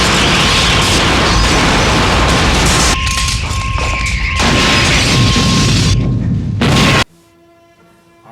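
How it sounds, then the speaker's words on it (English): Grenade explosions in the 1985 film Lifeforce, loud sustained booming blasts and rumbling debris for about seven seconds, then an abrupt cut to near silence. "they throw grenades at them until they explode"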